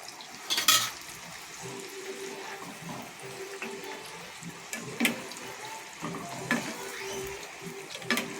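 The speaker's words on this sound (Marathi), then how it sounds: "तर आपलं तेल चांगलं गरम झालेलं आहे. आता आपण यामध्ये गुलाबजामुन सोडून घ्यायचे." Gulab jamun dumplings made from semolina dropped into hot oil, giving a steady low sizzle with a few brief splashes and clinks, heard alone without talk.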